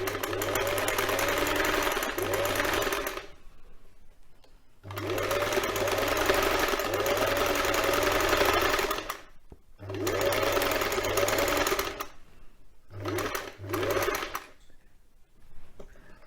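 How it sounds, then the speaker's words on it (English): A sewing machine stitches fabric for a quilt cover in bursts, several runs of steady mechanical whirring and needle chatter, each lasting a few seconds and separated by short pauses. "use both of your hands when you're sewing to feed the fabric through"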